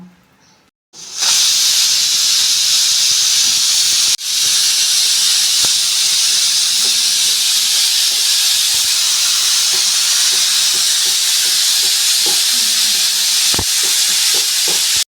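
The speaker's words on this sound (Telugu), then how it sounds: "కుక్కర్ పెట్టుకున్నాం మూడు ఇజీలు వచ్చేంత వరకు ఉడికించుకున్నాం" A pressure cooker of tomato dal venting steam on a stove: after a brief quiet start, a loud, harsh hiss bursts out and roars on steadily and close, with one momentary dip.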